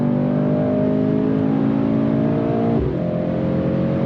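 A 2018 Mercedes-AMG C63 S accelerates hard, its engine note climbing steadily, dropping briefly at a gear change near the end and then climbing again, loud and close.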